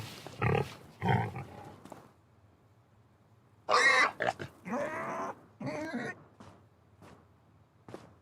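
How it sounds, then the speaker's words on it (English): Pigs on a farm grunt and squeal in several loud bursts separated by quieter gaps, close by, with faint background noise between calls. "We got us some pigs."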